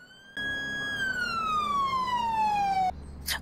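A police car siren in a video game roleplay wails in one long, loud, steady tone that slowly slides lower before cutting off abruptly, with no talk over it.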